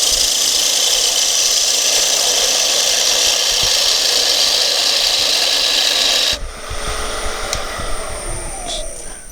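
A wood lathe turning a bowl blank, with peeling cuts taken on the spinning bowl, gives a loud, steady broadband hiss and whir that drops abruptly near the end as the machine winds down to a quieter hum.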